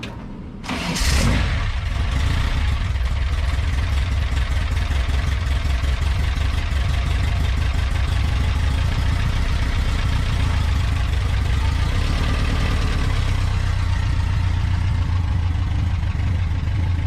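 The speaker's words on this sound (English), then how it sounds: "Let's do a cold start on her. Fire her up, back her out." An air-cooled VW 1760cc stroker engine built from a 1641cc with a 74mm crank cranks briefly and fires on a cold start, then settles into a loud, steady, close idle with a throbbing low rumble for the rest of the time.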